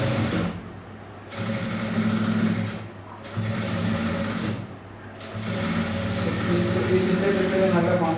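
A sewing machine stitches a saree blouse cup in three steady close bursts of rapid mechanical whirring, with short pauses between runs.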